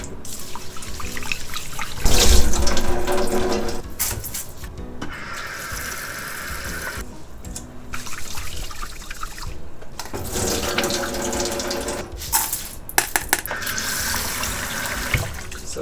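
Rice for Japanese-style baby porridge is washed by hand in a bowl of water, with close swishing, sloshing and trickling that comes in uneven bursts as the grains are stirred and rinsed.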